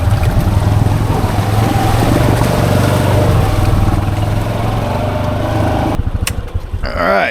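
A 2015–16 Honda Pioneer 500 UTV with a snorkel mod idles while submerged to the headrest in water, a loud, steady engine drone that cuts off near the end into brief splashing and gurgling.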